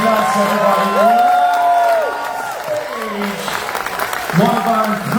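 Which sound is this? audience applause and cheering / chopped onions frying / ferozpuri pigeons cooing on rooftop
audience applause and cheering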